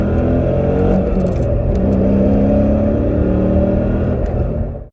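A Mercedes E320 wagon with a swapped-in E55 AMG engine and 6-speed manual revs hard and steadily, loud and close, holding a high, throaty drone for several seconds before easing off at the end.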